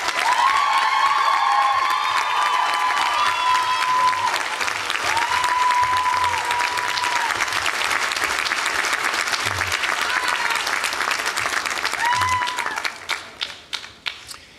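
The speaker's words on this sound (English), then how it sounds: "please give our faculty their applause" Commencement audience applauding the faculty at a 2015 college graduation, a long, full roar of clapping with some cheering and whistles that thins near the end into a few scattered, distinct claps.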